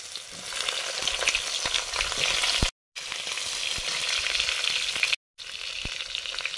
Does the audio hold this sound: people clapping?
no